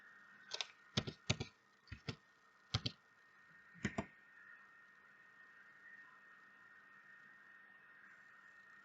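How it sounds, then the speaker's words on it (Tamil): A computer keyboard is typed on in a few quick bursts of sharp clicks over the first four seconds, followed by a quiet steady hum. "இந்த ஃபேஸ்புக் பேஜுடைய நேமை நான் ஃபர்ஸ்ட்டுக்கு டைப் பண்ணி எடுத்துக்கிறேன்."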